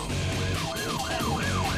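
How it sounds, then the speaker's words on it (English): A police car siren wails in a fast rising and falling cycle during a traffic stop in Garden City, Georgia, moderately loud over steady road and engine noise. "He hits his siren to initiate a traffic stop"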